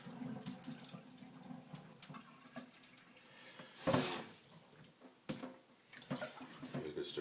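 Cloudy rinse water from Lundberg brown rice poured off in a sink, a soft trickle and splash with one louder gush midway, quiet and close, with faint talk in the background.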